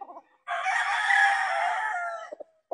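A Gilmore gamefowl rooster gives one full, loud crow up close, lasting about two seconds. A few short clucks come just before and after it.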